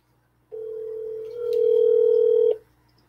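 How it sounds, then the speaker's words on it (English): A steady telephone dial tone sounds alone for about two seconds, then gets louder, with a short keypad tone partway through, before the line cuts off. "let's see if we can get Michael Allman on the phone"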